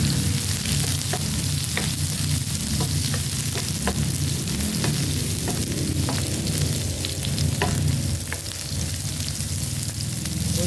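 Garlic fries in a hot pan with a loud, continuous sizzle and crackle throughout, close and steady, with occasional stirring noises and no talk.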